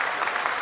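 A brief, steady burst of audience applause in the ISRO hall during the Chandrayaan-3 lunar landing, dense clapping from a crowd heard at a distance.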